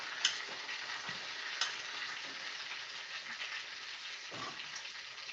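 A 94-day dry-aged T-bone steak sears in a hot pan, a dense, continuous sizzle and crackle holding steady throughout, close and uninterrupted, with a few faint clicks and no voices.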